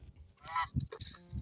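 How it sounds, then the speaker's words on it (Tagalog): A white goose honks several times at close range on a chicken farm damaged by a typhoon, its loud, brassy calls coming in short bursts. "Nag-survivor si Vegeta at saka yung puti natin na Cobra Chicken."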